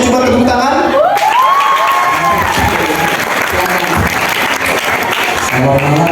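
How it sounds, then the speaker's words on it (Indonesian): Crowd of retreat participants at a Baptist school event applauding and cheering, a loud sustained wash of clapping and shouts, with a speaker's voice over the beginning and end. "coba tepuk tangan."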